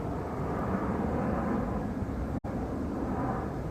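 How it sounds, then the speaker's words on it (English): Airplanes flying overhead near a cemetery, a steady broad low rumble holding at the same level throughout, with one brief dropout near the end. "Minus the airplanes flying by."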